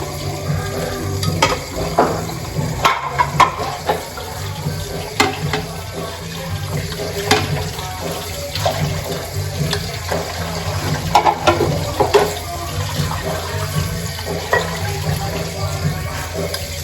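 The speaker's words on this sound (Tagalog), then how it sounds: "Babalawan muna natin yung plato." Tap water runs steadily into a home sink while a plate is rinsed under it, with a continuous splashing flow and scattered clinks of dishware close by.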